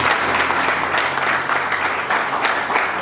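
An audience applauds at a gathering, a loud continuous burst of many hands clapping with slight swells, lasting the full few seconds with little else heard.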